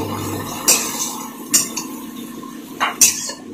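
Bean curry with Kashmiri chilli powder being stirred in a pan, heard as a few distinct metallic clinks and scrapes of a utensil against the pan at uneven intervals over a quiet background, close.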